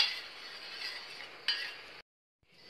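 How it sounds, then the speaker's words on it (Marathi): Jaggery and cardamom stirred in a pan until the jaggery dissolves, giving a close, continuous hissing scrape with a brief clink before it cuts to silence, then resumes faintly. "हे मिक्स करून घ्यायचं गूळ विरघळेपर्यंत"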